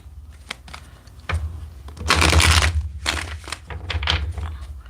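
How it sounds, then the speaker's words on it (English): Tarot cards shuffled by hand in several quick riffling bursts, with a louder, dense flurry in the middle and lighter rustling around it, close and alone with no talk. "I'm going to do 5 shuffles here"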